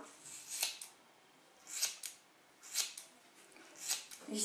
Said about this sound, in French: Les ciseaux, ils sont pourris.